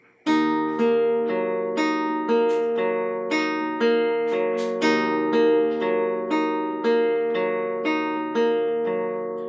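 A guitar picks out a steady, repeating fingerstyle pattern of ringing open-string notes from the Romanza intro, each plucked tone clear and sustained, played alone at an even pace.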